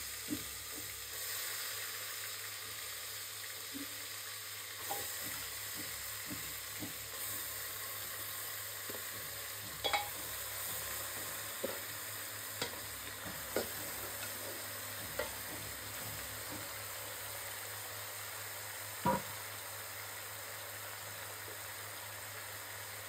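Beef frying in oil in a pressure cooker, with a steady low sizzle and occasional sharp scrapes and knocks of stirring against the metal pot, fairly faint and continuous.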